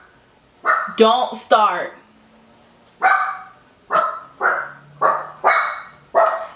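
Several dogs bark indoors at home, loud and close: a quick cluster of sharp barks, then a steady run of about half a dozen more at roughly half-second intervals, with someone briefly speaking between them.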